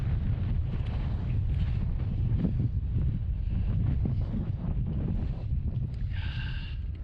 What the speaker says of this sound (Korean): 이렇게 바람이 불어가지고